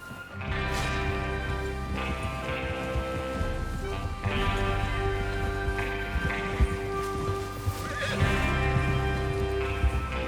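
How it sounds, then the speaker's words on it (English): Horses in the Red Dead Redemption 2 western video game, with loud whinnies and neighs over clip-clopping hooves and a bed of game music, repeating through the stretch. "Get your horses ready."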